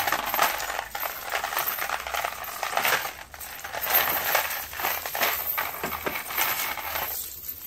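Metal snow chain for a car tyre being unfolded and handled, a dense, continuous jangle of clinking links close by for several seconds, with no talk over it.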